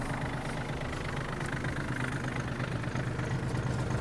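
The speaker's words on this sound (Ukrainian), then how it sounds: "Поки ґрунтофреза у нас опущена, давайте включимо вал відбору." A Yanmar RS-270 mini tractor runs with its PTO shaft engaged, driving a lowered rotary tiller: a steady, even mechanical drone with a low rumble, heard close and without voices.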